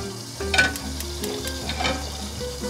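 Burger buns for a double cheeseburger toast in a frying pan, giving a steady close sizzle broken by a few light scraping clicks as they are moved.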